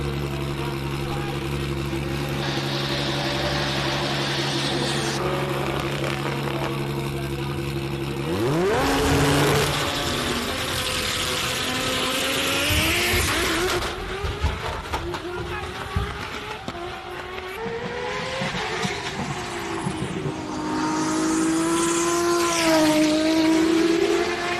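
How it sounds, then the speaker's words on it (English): A race car engine at the SIMOLA Hillclimb idles roughly, then roars and revs hard, the pitch climbing and falling in loud sweeps, with some voices faintly underneath. "Just the loudest car."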